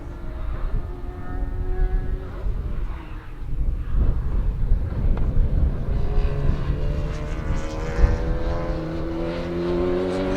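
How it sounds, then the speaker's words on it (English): A race car approaches and roars past on a track, its engine pitch shifting as it passes, with other engines droning in the background. "as you hear him go past, he's using nothing like the rev range of the car"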